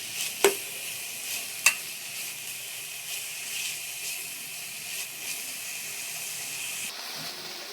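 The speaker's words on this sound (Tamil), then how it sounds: "வெங்காயம் நல்லா வதங்கட்டும்." Finely chopped onions sauté in hot oil in a pan for paneer butter masala, a soft steady sizzle with a couple of sharp utensil clinks early on and faint stirring scrapes.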